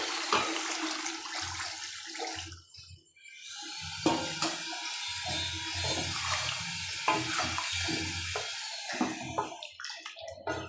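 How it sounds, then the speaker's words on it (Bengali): Water poured into a cooking pot on a home stove, a continuous splashing gush with gurgling surges and a short pause midway, close and fairly quiet, no voices. "এর মধ্যে দিয়ে দেবো এখন আমি একটু জল"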